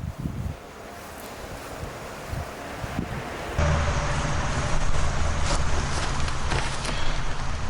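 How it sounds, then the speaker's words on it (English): Strong gusty wind buffets the microphone outdoors, a roaring rush that swells louder partway through and stays harsh to the end, with no talk. "this wind is brutal today"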